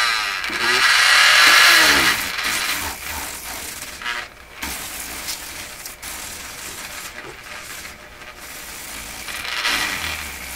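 A Dremel rotary tool spins at high speed while cleaning dried-up grease from a Garrard 3000 turntable mechanism, a loud continuous whine with scraping and grinding that rises early, dips briefly, then carries on steadily.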